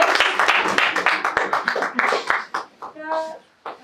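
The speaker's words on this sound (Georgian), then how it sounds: "ტაში დავემშვიდობოთ" Applause at the close of a mafia game final: brisk, crisp clapping that tapers off, followed by a voice speaking.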